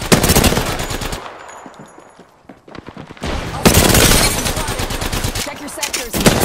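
Rapid bursts of automatic gunfire crackle loudly in Apex Legends, with a brief lull of quieter firing before dense volleys resume at close range.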